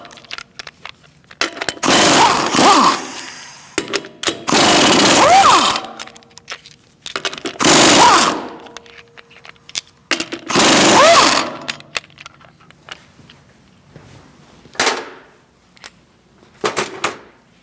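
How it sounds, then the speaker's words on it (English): An impact gun spins lug nuts off a Chevrolet Cruze wheel in several loud, close bursts of rattling whirr lasting a second or two each, with quieter clinks and handling noises in between. "Now we're going to remove our lug nuts."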